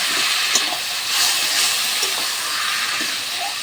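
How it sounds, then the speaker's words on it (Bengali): Water hits hot oil and ground spices of turmeric, cumin and chilli in a pan, giving a loud, steady sizzling hiss with a few small pops. "এখন অল্প একটু জল দিয়ে দেবো, জল দিয়ে কষিয়ে নেব।"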